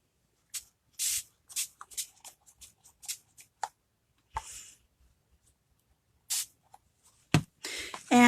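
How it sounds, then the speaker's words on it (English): Short bursts of a spray bottle misting a chalkboard surface during cleaning, several quick hisses spaced irregularly with quiet gaps between, close and fairly soft, ending with a louder cluster of rubbing and handling noise. "Spray it again."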